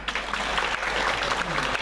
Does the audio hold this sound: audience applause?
yes